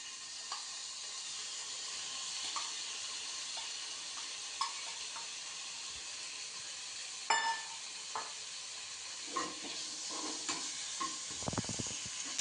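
Marinated paneer frying in a little oil in a pan, a steady low sizzle and hiss throughout with scattered soft pops and a few louder spatters and utensil taps toward the end.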